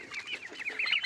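Young turkey chicks weighing over a kilo chirp and peep on a farm, a busy overlapping chorus of short, high calls close by that continues without pause.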